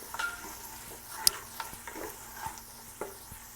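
Tomato paste fries in oil for kabsa rice as a Maggi cube and dried lemon go in, giving a soft close sizzle broken by light stirring scrapes and clicks.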